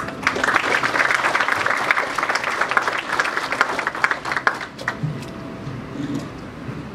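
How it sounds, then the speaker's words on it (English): An audience at a youth cyberspace forum opening ceremony applauds in a dense, loud wave of clapping that holds for about five seconds, then thins out and fades into room noise. "So ladies and gentlemen, please welcome him with a warm round of applause."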